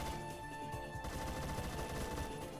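Rapid automatic gunfire in the online shooter Phantom Forces, a dense continuous burst of shots mixed with game sound, steady and fairly loud with no talking.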